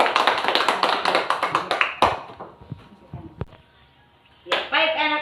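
A classroom of children claps for a group in a quick rhythmic burst of close applause that ends after about two seconds, followed by scattered taps and a voice talking.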